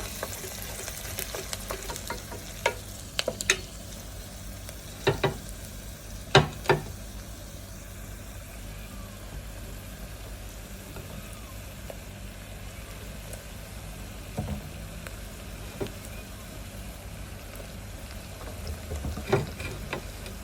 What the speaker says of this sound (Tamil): நம்ம ஒனியன் நல்லா ப்ரௌன் கலருக்கு ஃப்ரை ஆகணும்.